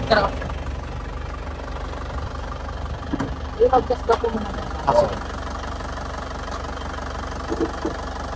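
Vehicle diesel engine idling after an injection pump overhaul and injector calibration, a steady low knocking rumble running throughout, with people talking over it.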